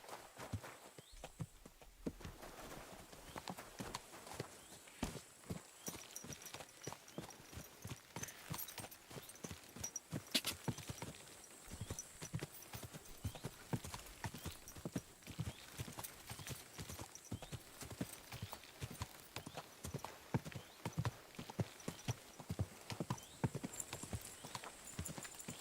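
Horse hooves clip-clop steadily and rhythmically in the medieval video game Kingdom Come: Deliverance 2, a continuous close walking gait lasting throughout with little else heard.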